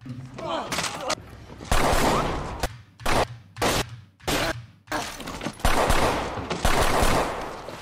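Gunfire from a John Wick action film scene comes as loud bursts and single shots in a chaotic volley, mixed with crashes and impacts at close range.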